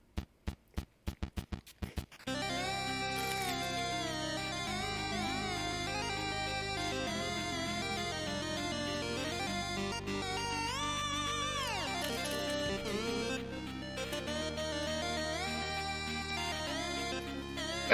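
A track opens with a few sharp staccato hits, then drives into a dense, fast chiptune melody over pulsing bass, steady and continuous throughout.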